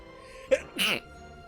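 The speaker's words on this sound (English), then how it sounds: "Then I gotta sneeze." A single close, sharp human sneeze with a short intake burst followed by the louder main expulsion, over a quiet room background.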